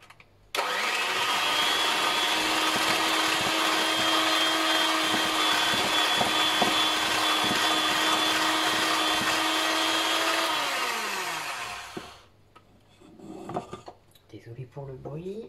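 An old electric mixer beats soap paste with a loud, steady motor whine that runs unbroken for about eleven seconds, then cuts off, leaving faint handling noises.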